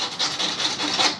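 Hand sanding of a Honda Transalp motorcycle fairing with coarse 60 grit sandpaper, quick rasping back-and-forth strokes in a close, steady rhythm with no talk.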